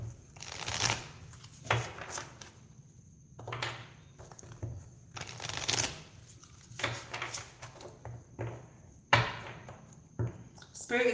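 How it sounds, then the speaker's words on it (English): Tarot cards are shuffled in repeated riffling bursts, crisp and close, separated by short pauses and soft handling clicks. "I forgot to do my shuffle split 3."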